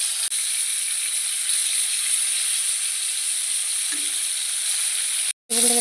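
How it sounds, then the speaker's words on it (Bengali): Pointed gourd (potol) frying in a pan gives a steady, loud sizzle that carries on without a break for several seconds, then cuts out briefly near the end. "কয়েকটা পটল ছেলেদের জন্য ভাজবো"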